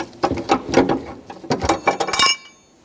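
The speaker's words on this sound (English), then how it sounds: "In the center of the spare tire, there will be a threaded rod that you have to unthread so we can actually remove this spare" Threaded spare tire hold-down rod being unscrewed in a 2006-2011 Honda Civic trunk: a quick series of close ratcheting clicks and metallic rattles over about two seconds, ending in a faint clink, with no talk.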